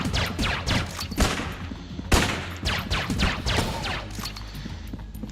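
In Enter the Gungeon, sniper enemies fire a steady stream of sharp, moderately loud shots amid busy in-game effects, the crack of each shot arriving in quick irregular succession with no talking.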